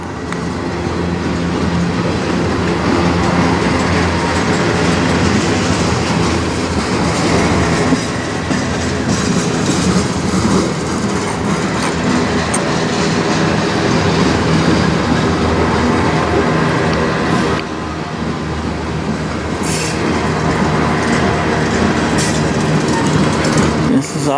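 CN chemical freight train rolling past in Sarnia, Ontario, a loud continuous rumble with rail clatter sustained throughout, slight dips in level, and some talk mixed in.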